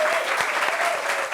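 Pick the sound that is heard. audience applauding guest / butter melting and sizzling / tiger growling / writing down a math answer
audience applauding guest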